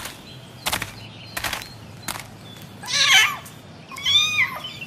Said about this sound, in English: Listen, what's that? It's a kitten.